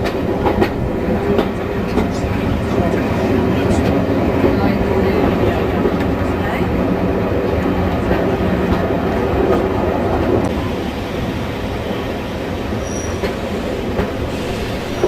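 A West Somerset Railway train runs into Crowcombe Heathfield station with a loud, steady rumble of wheels and carriage noise, faint squeals and rattles near the end as it slows, heard from on board.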